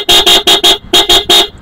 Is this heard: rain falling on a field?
no